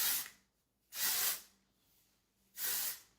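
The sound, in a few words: Bumble and bumble Thickening Texture Spray being sprayed on hair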